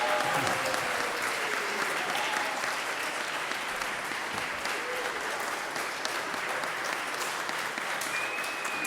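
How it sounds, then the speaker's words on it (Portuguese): Sustained, dense audience applause fills a legislative council session hall, steady and even throughout with no pauses and no talk over it. "dando uma salva de palmas para ela"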